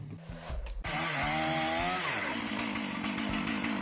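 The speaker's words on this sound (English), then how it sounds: "while sawing a tree, the saw gets stuck in the trunk" A chainsaw cuts into a tree trunk, its engine loud and close, revving and straining continuously as the saw binds in the wood, with no talk.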